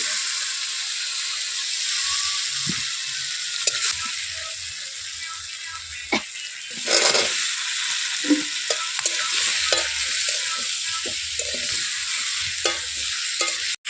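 Chopped onions and tomatoes sizzling steadily in a hot pan while a utensil scrapes and stirs in irregular clacks, close and fairly loud, no speech.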